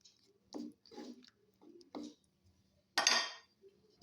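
Spoon scraping and stirring palang matar with a little water in a pan, a series of short wet scrapes and clinks ending in one louder sizzling stir, close and fairly quiet.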